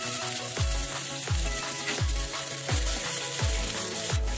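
Steady sizzling of onion, tomato and green chilli frying in hot oil, with a regular rhythmic scraping of stirring every half second or so, close and continuous.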